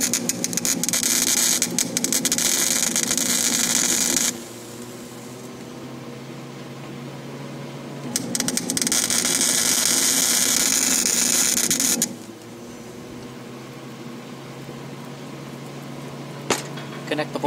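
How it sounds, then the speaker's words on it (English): Tack welding on an Allis Chalmers rake during repair: two loud, steady buzzing bursts of about four seconds each, separated by a quieter background hum, with a faint click near the end. "see if we can put some tacky weld on here."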